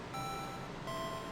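A phone alert sounds as a steady electronic tone with a faint high whine, quiet and close, holding for a moment against soft background noise with no talking.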